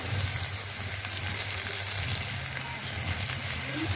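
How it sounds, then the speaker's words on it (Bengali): Carrots and beans fry in hot oil for homemade fried rice, making a continuous, fairly close hiss and crackle that stays even throughout with no talking. "ভালো করে লাল লাল করে ভেজে নিই"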